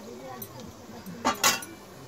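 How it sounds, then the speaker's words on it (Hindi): Cauliflower fry being spooned from a pan onto a plate, two brief metallic clinks and scrapes of cutlery against dishware in a quiet kitchen. "अब हम इसे प्लेट में निकाल लेंगे सर्व करने के लिए"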